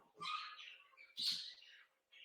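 Bird calls and squawks sound in two short bursts with a brief higher chirp at the end, fairly faint and set back behind an otherwise quiet online talk.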